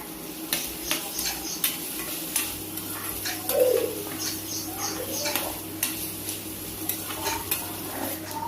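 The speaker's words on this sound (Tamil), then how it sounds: "இது கொஞ்சம் நல்லா வதக்கி எடுத்துக்கலாம்" Horse gram sautéing in a pan with asafoetida, a steady soft sizzle under repeated scraping strokes of a spoon against the pan, close and moderately loud, with a low background hum throughout.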